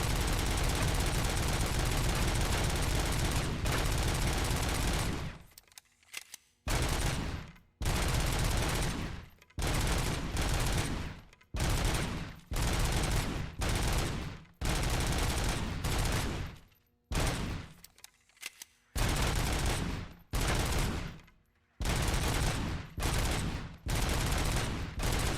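Long sustained bursts of automatic gunfire from a high-capacity magazine weapon in Robocop: Rogue City, loud and dense, broken by short pauses into a stuttering series of volleys that run almost without letup.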